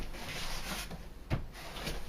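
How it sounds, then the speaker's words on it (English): Cardboard cake box flaps being folded and creased for a wedding cake, a soft, continuous scraping rustle with one sharper crease snap partway through, close and fairly quiet. "When you fold the box flaps up like this, you don't want to do it this way first."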